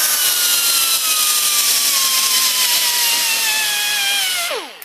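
A cheap air-powered tool spinning a twist-lock abrasive pad strips metal on a Ford 800 tractor oil bath air filter, giving a loud, continuous high whine that slowly drops in pitch before winding down sharply at the end.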